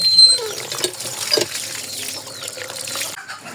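Water trickles and pours steadily over eggplants being washed by hand, with faint clinks and splashes close by, ending in a brief quieter moment.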